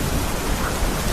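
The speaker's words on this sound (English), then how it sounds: "Outside, the rain continues." Steady rain falling outside on a roof, a dense continuous hiss with no pauses or voices.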